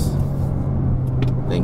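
2019 Mazda3 1.5L liftback engine humming after a downshift to second on a hillclimb, a steady close low rumble inside the cabin with a few faint ticks and clicks over it.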